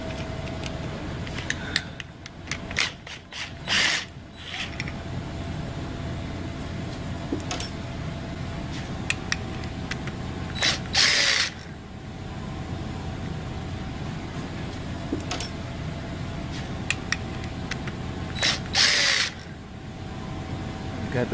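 Short tool bursts from a ratchet loosening a bracket in the engine bay of a Chrysler 200 / Dodge Avenger, three brief broadband flurries spaced apart over a steady low background hum.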